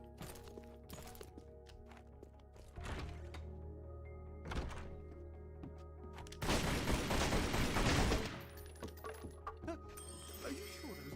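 Gunfire in the Tomb Raider Legend video game, heard as several sharp percussive shots over a droning game backdrop, then a dense burst of rapid fire lasting a couple of seconds before the steady hum returns.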